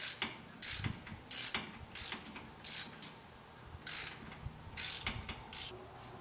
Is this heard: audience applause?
no